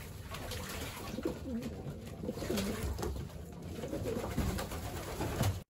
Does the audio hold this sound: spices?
no